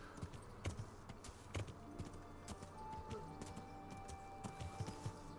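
Horse hooves clip-clopping at a walk in Kingdom Come: Deliverance, irregular soft hoof strikes with faint game ambience and a quiet voice underneath.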